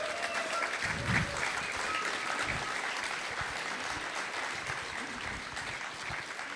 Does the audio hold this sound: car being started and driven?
no